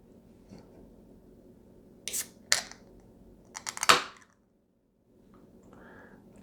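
A few sharp clicks and a quick crisp hiss as an IPA beer bottle cap is pried off, then a short silence and faint fizzing.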